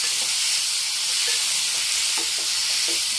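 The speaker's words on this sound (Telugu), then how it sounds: "చక్కగా ఇట్లా వేయించుకున్నామండి." Pumpkin dosa batter fries in a hot pan, making a dense, even hiss of sizzling that holds steady and loud throughout with a few faint soft knocks.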